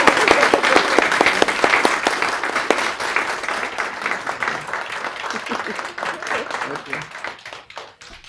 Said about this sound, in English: So if we can give a round of applause to Miss Minnie Alexander.